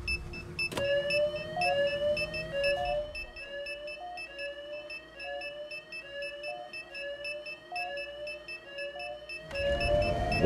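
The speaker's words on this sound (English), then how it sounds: "Go ahead and pull the fire alarm." A fire alarm rings in the video game Hitman 3 on the Hokkaido level, a steady electronic alarm tone repeating in a regular pattern for about ten seconds, sharp and prominent with no talking.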